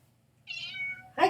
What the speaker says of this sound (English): It's the wife's cat.